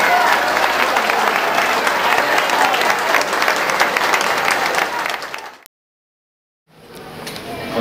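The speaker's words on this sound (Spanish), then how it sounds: "Un aplauso a William Maecha, próximo alcalde" A loud, dense burst of crowd applause at a political campaign event in Silvania, Colombia, goes on for several seconds, breaks off abruptly, then briefly returns more softly.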